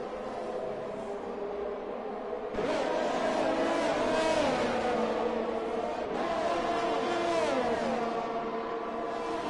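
A race car engine in a Jeddah racing round revs high through its gears, rising whining pitch sweeps repeating as it shifts up, with commentary over the top.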